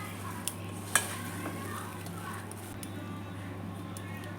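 Soya chunks (meal maker) are stirred in a bowl with a spoon, giving soft, steady scraping and one sharp clink near the start, over a low background hum.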